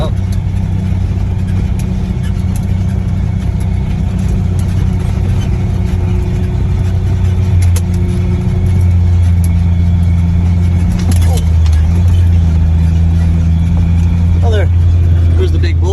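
Vehicle engine humming steadily while driving across a ranch toward a food plot, a constant low drone heard from inside with someone talking over it.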